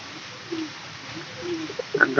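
Soft, low cooing of a pigeon repeated several times at close range, followed by a brief burst of voice at the end.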